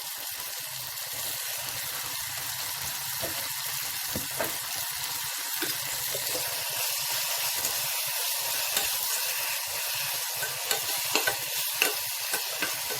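Tomatoes sauté in oil for a South Indian rasam, a continuous close sizzle and hiss from the pan with occasional stirring scrapes and small taps near the end.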